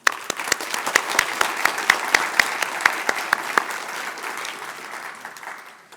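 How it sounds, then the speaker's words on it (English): Applause for honorees at an annual human rights awards ceremony: a crowd claps steadily with several loud, sharp claps close by, then the sound tapers off toward the end. "I would like to ask us if we give us another round of applause for all of our honorees."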